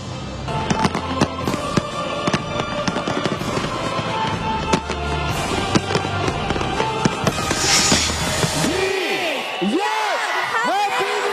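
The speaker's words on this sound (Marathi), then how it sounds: "थायलंडमध्ये फटाक्यांच्या नेत्रदीपक आतषबाजीतून दोन हजार चोवीस वर्षाचा उत्साह स्वागत करण्यात येत आलाय" A New Year 2024 fireworks display in Thailand crackles and booms with dense, continuous bangs and pops, followed by rising whistles and sparkling crackle as the barrage thins out near the end.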